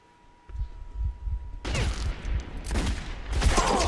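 Gunfire in the video game Metro 2033: a burst of loud, rapid shots begins partway through and continues in dense volleys until the end, after a quieter opening.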